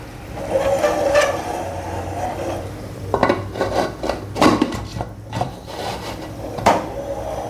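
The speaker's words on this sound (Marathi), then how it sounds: "आता याला मी झाकण लावते." A metal lid is set onto a cooking pot of mutton biryani, with a few scraping rubs followed by several distinct clanks and knocks of metal on metal, close and moderately loud.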